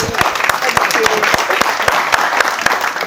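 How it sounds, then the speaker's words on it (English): An audience at a business presentation event applauds a volunteer, a dense, lively wash of clapping with individual sharp claps standing out, fairly close and steady throughout. "Round of applause for Rosa"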